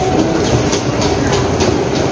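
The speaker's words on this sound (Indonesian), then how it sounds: "kita naik kereta dulu di stasiun" Steady rumbling train noise fills the clip, loud and close, with a continuous low roar and faint rhythmic clatter throughout.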